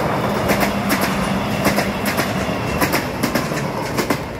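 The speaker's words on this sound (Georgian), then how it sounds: "ის მოდის, ბათუმის მატარებელი მოდის ჩქაროს." A fast passenger train rushes past close by, a loud steady roar with rhythmic clickety-clack wheel beats repeating over the rail joints throughout, no voices.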